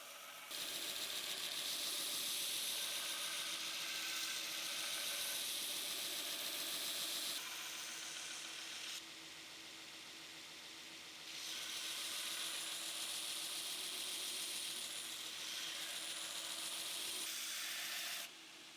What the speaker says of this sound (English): it's just a lot of back and forth on each side till you slowly bring your bevels into the center line.